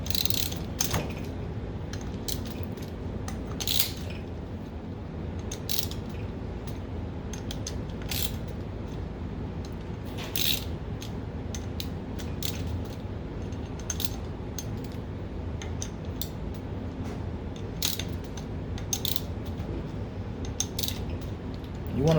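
A torque wrench tightens valve cover bolts on a 2006–2007 Kawasaki ZX10R, with repeated sharp clicks and ratcheting creaks spread irregularly over a low steady background, close and fairly quiet.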